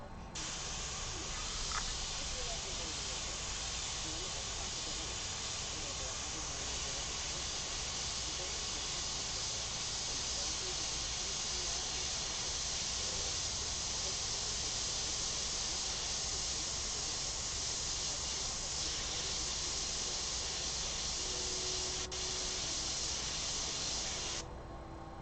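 Airbrush freehand spraying paint onto a denim jacket, a steady soft hiss of air and paint running unbroken for over twenty seconds, close and even, with no talking.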